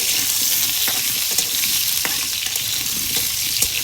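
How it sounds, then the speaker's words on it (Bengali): Potatoes sizzling steadily in hot oil in a pan, a close, even frying hiss with occasional scrapes and clicks of stirring, no voices. "আলুটা লাল লাল করে ভেজে নেব।"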